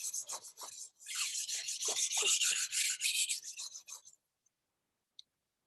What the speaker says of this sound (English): Sharpen the other.